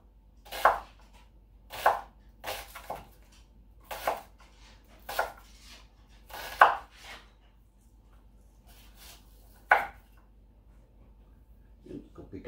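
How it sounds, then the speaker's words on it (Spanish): A knife chops an onion into julienne strips on a board, about ten sharp separate cuts in an uneven rhythm, close and clear against a quiet room with no talk. "La ponemos así, le damos para picar en forma juliana."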